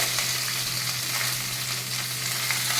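Onions frying with curry leaves, green chilies and chana dal over a medium flame, a dense continuous sizzle and crackle held at a steady loud level throughout, with no voices.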